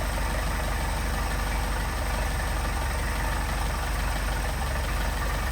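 A Mercedes 190SL engine with Solex carburetors idles steadily, a dense, continuous low rumble with a fast, even pulse, close and loud throughout with no voices.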